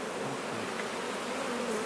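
Honeybees buzz around their hives in a dense, continuous hum, fairly close and steady throughout with no voices.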